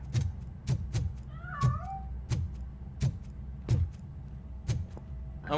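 A cat meows in the RoboCop: Rogue City video game, a short plaintive call heard amid repeated sharp footstep-like thuds and clanks close by.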